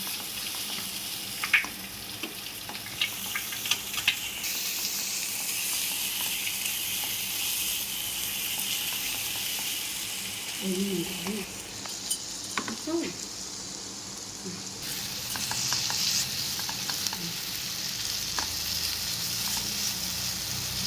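Onions fry in oil for a dhaba-style egg curry while a ladle stirs them. A steady hissing sizzle runs throughout, broken by occasional scrapes and clinks of the ladle against the pan.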